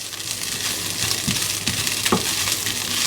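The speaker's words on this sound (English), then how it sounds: "with vegetarian mince it can be a little bit sticky on the bottom, but just keep giving it a stir" Vegetarian mince frying in a pan hisses with a loud, continuous sizzle close up, while a utensil scrapes and stirs it in a few distinct strokes across the bottom.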